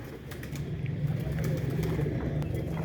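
Pigeons of middling size coo in a loft, a low throaty burbling repeated steadily near the microphone over faint background noise and clicks.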